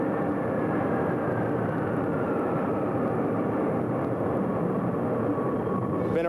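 A B-52 bomber's engines roar in a dense, steady broadband rumble that holds at a constant loud level throughout, with no voices over it.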